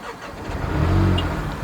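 A BMW 118i (Mzansi Edition hatchback) engine starts and settles into a steady, close idle, its low rumble swelling briefly then holding even for the rest of the moment, with no voices.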